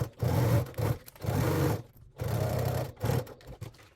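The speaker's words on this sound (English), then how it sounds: "at the sewing machine, we're going to stitch a 1/4 inch seam allowance along the top curved edge" A sewing machine stitches a quarter-inch seam along the curved top edge of a crossbody bag, running in several bursts of rapid whirring separated by short pauses, close and clear.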